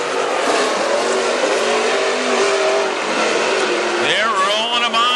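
WISSOTA Super Stock race cars roar around a speedway, a loud continuous engine drone from the pack with rising revs near the end, and an announcer talking over the noise.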